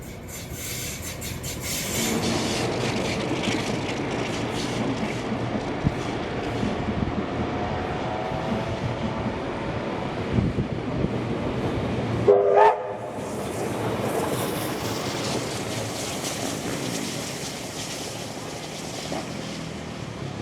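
A train pulled by steam locomotive 4501 rolls by with a steady, heavy rumble throughout, broken briefly near the middle by a short whistle or horn sound.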